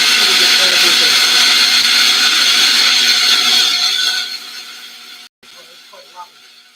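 Espresso coffee grinder grinding leftover beans out of the hopper, a loud steady buzzing whir that runs for about four seconds, then fades and cuts off, followed by faint clicks.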